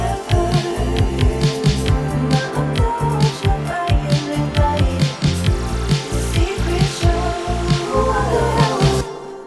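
Bass guitar in a mix running through a compressor with a longer release time, a steady line of punchy repeated low notes with drums, loud and continuous for about nine seconds before stopping.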